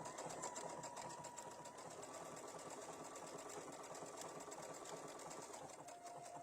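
A sewing machine stitches a feather stitch with green thread, running in a fast, steady, close whirring rattle that holds without pause.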